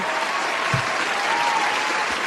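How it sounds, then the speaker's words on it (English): A round of applause from a crowd, steady clapping that fills the whole short stretch at an even, moderately loud level, with no talking over it. "let me get a round of applause"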